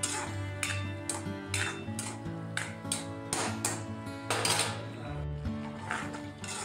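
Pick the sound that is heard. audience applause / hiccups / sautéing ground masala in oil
sautéing ground masala in oil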